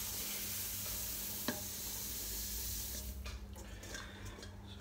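Grain mash for a Fuller's London Porter, with chocolate malt among the grains, is stirred in a BrewTools B80pro brewing system. It makes a steady wet swishing wash, and a few sharper scrapes and splashes come in toward the end.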